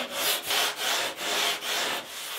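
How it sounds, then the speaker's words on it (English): Coarse 36 grit sandpaper on a hard pad rubs across a surfboard foam blank during preshaping, five or six close, loud rasping strokes in a steady back-and-forth rhythm. "the 36 grit eats the foam very, very easily"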